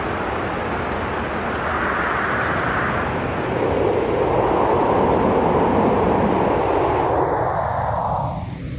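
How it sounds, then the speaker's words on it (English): Noise fed through an analog stereo fixed filter bank: a steady, loud, dense roar whose tone slowly shifts and sweeps as bands change, continuous for several seconds before thinning out at the end, no voices. "the easiest way to explain what a fixed filter bank does is by running noise through it"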